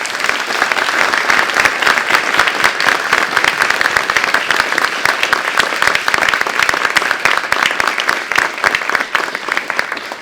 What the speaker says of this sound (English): A round of applause for them all.